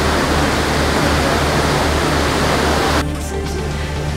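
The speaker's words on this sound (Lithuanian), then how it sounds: "Dar vienas krioklys." Waterfall at Milford Sound, a loud steady roar of falling water filling the whole stretch, easing slightly toward the end as the nearer rush drops away.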